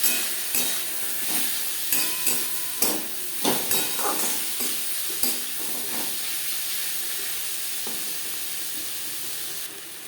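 Onion and tomato frying in a pan as the base for a rui fish curry, a steady loud sizzle with repeated stirring scrapes and clinks, no voices.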